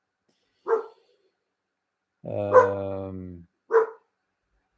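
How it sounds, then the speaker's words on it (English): A dog barks three times with quiet gaps between: a short yip, then a longer drawn-out howling bark, then another short bark, each clear and fairly close in an otherwise silent setting. "that's just one of the dogs that you are hearing"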